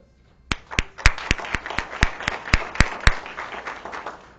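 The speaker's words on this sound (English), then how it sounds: "Let's give our Robert E. Lee AP scholars one last round of applause" A small group applauds for AP scholars at a school board meeting, steady clapping from nearby hands rising quickly and then thinning out after a few seconds.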